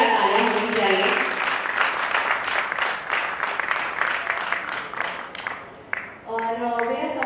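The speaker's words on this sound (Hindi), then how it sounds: "एक बार जोरदार तालियां होनी चाहिए।" Loud audience applause at a festival event, rhythmic clapping at first that thins out toward the end as a voice begins speaking over it.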